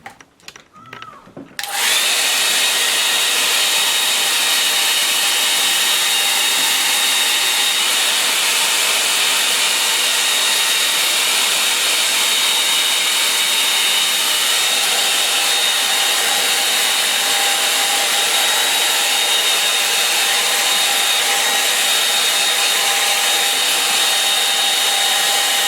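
A hair dryer blows steadily and loudly on a watercolour painting of trees, a continuous airy whoosh that starts abruptly after a brief quiet moment and runs unbroken to the end.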